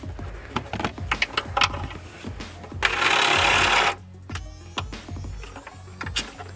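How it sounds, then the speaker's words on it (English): A power tool, likely an impact wrench, whirs for about a second while removing a bolt on a BMW E46 ZHP, amid clicks and clanks of handling tools nearby. "We have 6 bolts that we will need to be removing there."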